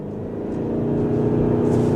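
A low, steady engine drone from a 2025 Mazda CX-50 Hybrid's 2.5 engine in power mode swells as it accelerates, a continuous hum with a slight growl and no voices.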